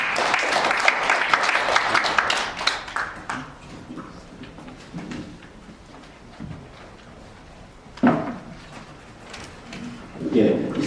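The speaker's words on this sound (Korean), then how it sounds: "큰 박수로 환영해 주시기 바랍니다." An audience applauds to welcome a speaker at a seminar on turmeric recipes, with a loud burst of clapping at first that fades into scattered claps. Later come softer claps and some shuffling sounds.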